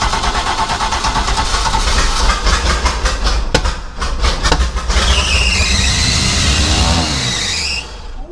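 A cheap speed boat's small outboard engine sputters, catches and runs loudly up close, with a rapid chugging burst midway and then a rising, revving whine before it drops off near the end.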